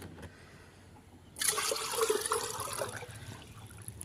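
Water suddenly gushes and splashes for about a second and a half, then settles into a softer trickle and fades.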